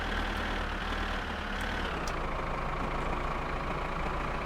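A truck engine runs steadily in My Summer Car, a loud, continuous low rumble with a faint shift in tone partway through.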